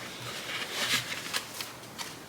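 A deck of tarot cards is shuffled softly and close up, giving quiet, papery riffles and flicks in several short bursts.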